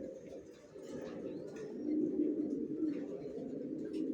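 Young racer pigeons coo softly and continuously, a low rolling murmur that stays fairly quiet and close throughout.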